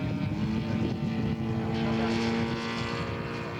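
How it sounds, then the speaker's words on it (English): A petrol-engined scale model aircraft taxis out at a scale model airshow, its engine droning steadily and loudly with a buzzing tone. The engine runs close throughout. "Don Irwin taxiing out for his second flight."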